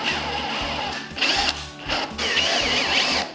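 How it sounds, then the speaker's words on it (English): A small power drill whirs in short bursts, revving up and down as it bores small pilot holes into wood for piano hinge screws, with brief pauses between runs. "I always use a small pre-drill when using a piano hinge"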